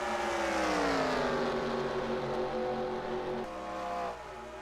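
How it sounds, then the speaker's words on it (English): A race car engine idles in a NASCAR racing video game, a steady, fairly loud harmonic drone whose pitch drifts slightly downward before dipping a little near the end, with no talk over it. "Sounds like another idling engine up ahead."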